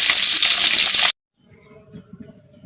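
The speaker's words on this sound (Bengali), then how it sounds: "এখন মাছগুলো আমি খুব ভালোভাবে ভাজি করে নেব।" Loud, crackling sizzle of fish frying in oil in a village kitchen for about a second, then it cuts off abruptly, leaving faint, quieter background sounds.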